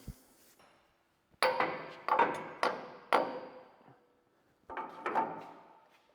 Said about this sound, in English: So we'll hammer those 2 pins that are left on the main boom.